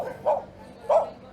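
Two short barks from a dog at a dog shelter, spaced about half a second apart, moderately close and clear against a quiet background.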